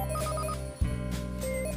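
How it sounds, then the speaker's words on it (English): An incoming call's phone ringtone plays a repeating melodic pattern of bright electronic tones, steady and fairly loud, with no one speaking, in a dramatized Christmas story scene. "So, sorry, I'm getting a phone call."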